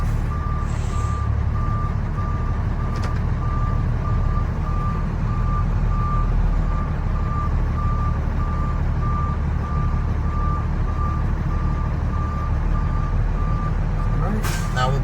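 A Class B truck reverses with its backup alarm beeping in an even, steady rhythm over a loud, constant low engine rumble, with a brief hiss at the end.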